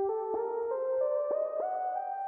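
Synth tones stepping upward note by note through a harmonic minor scale in a sustained, smooth legato line, each note shifting pitch with a soft attack.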